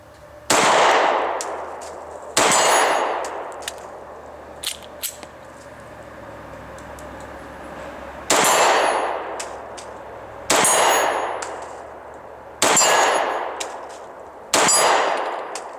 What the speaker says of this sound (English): we've got our steel plate there out at 25 yards, and I'm just going to do my best to hit it